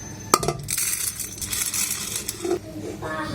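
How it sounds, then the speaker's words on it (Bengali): Dry red lentils (masoor dal) pour into a metal pressure cooker, a sharp clink at the start followed by a steady rattling rush that lasts about two seconds. "প্রেশার কুকারে এখন দিয়ে দিব মুসুরির ডাল"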